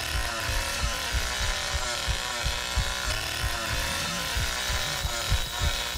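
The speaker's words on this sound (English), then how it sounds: "It's literally the only way we don't get her right there, if I literally mess up my chainsaw attack." A chainsaw attack in the Texas Chain Saw Massacre video game: a loud, continuous buzzing saw roar with pulsing revving throughout, dense and close.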